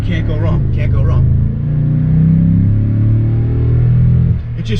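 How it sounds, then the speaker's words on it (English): Deep, steady rumble of a 2022 Toyota Tundra TRD Pro V8 with TRD dual exhaust, heard from inside the cabin while driving as the engine note rises and falls slightly, loud and continuous under someone talking. "the V8 with the TRD dual exhaust, you really can't go wrong"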